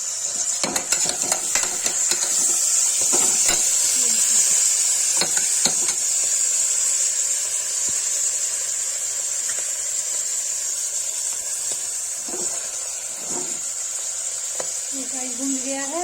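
Kashmiri collard greens fry with turmeric in a pan, giving a steady, close sizzling hiss throughout, broken by scattered clicks and scrapes of stirring.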